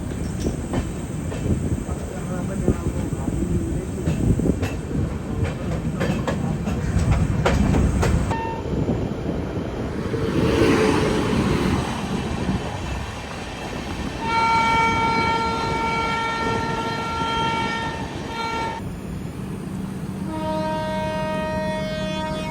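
The Taj Express train rolling along the rails after leaving New Delhi railway station, with a steady rumble and rhythmic clatter, then a high squeal and ringing tones as it moves, loud and close throughout.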